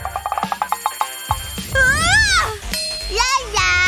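An alarm clock rings in a cartoon bedroom, a rapid metallic trill of repeated bell strikes in the opening second, followed by a child's loud, animated voice and exaggerated groans.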